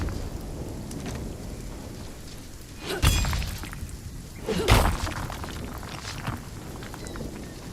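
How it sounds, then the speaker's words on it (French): Thunder and lightning crash during combat in Runescape: Dragonwilds, two sharp rolling booms a couple of seconds apart over a steady hiss of rain, with no talking. "Chaque fois que je commence un combat, il y a une zone d'éclair qui apparaît."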